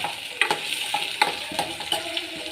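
Chopped onions and coriander leaves frying in a pan give a soft continuous sizzle, broken by a spoon scraping and stirring in short, uneven strokes every half second or so, close and fairly quiet.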